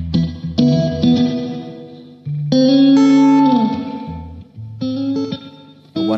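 An electric guitar through an ambience effects pedal set to slapback echo plays chords and muted-string hits, each strike followed by a quick repeating echo and a drippy trailing decay, loud and alone with no voice.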